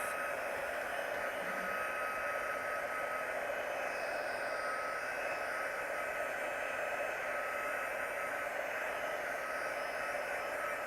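A hair dryer blowing steadily to dry paint on a floral stencil, a continuous close whirring hiss that stays level throughout with no talking.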